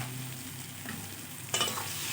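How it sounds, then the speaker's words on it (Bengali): Pumpkin with turmeric being stirred and fried in a pan, a steady sizzle with a louder burst of scraping and stirring near the end, close and without voices. "হলুদটা দিয়ে কুমড়োটা আমি ভালোভাবে নেড়ে চেড়ে দিচ্ছি"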